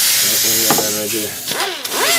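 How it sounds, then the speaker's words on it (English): Sanding paint off a car body to expose spot welds during rust repair, a steady hissing abrasive rasp that runs continuously, close and loud, with someone talking over it. "And you just sand it down like that and you'll find them."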